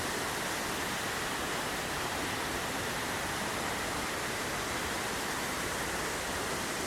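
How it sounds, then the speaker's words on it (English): Steady, dense rush of falling water from an ornamental waterfall along a stone walkway at Mandalay Bay in Las Vegas, a constant broadband roar with no pauses and no voices. "More waterfalls."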